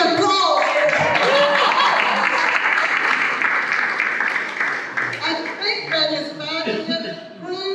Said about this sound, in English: There's supposed to be applause.